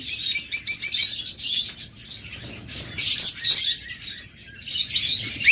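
A pair of sky blue double factor budgerigars chirping in rapid, busy bursts of high twittering, close and fairly loud, with short lulls between flurries.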